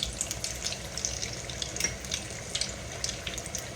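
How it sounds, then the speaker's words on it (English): Fried pies crackle in very hot grease, a close, busy sizzle full of quick popping spatters that continues steadily with no talk over it. "let's turn our pies. They're done on that side. You want your grease real hot"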